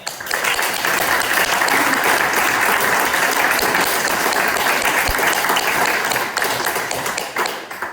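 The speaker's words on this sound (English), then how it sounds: "if we could just get a round of applause for her" Sustained applause fills a township board meeting room, dense steady clapping from the gathered attendees holding at an even level for several seconds before thinning slightly at the end.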